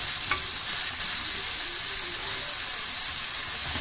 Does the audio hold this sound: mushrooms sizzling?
yes